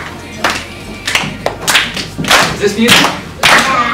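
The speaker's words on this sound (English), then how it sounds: "If I clap my hands." A person claps their hands in a rock music school lesson, producing about seven loud, sharp claps in an uneven rhythm, with a voice speaking briefly between them.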